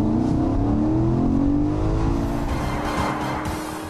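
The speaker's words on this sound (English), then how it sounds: "cracking the throttle pushes the driver back into his seat" A Porsche Panamera GTS engine accelerating hard under throttle, a loud close rising engine note that climbs in pitch and then eases slightly toward the end, with no talk.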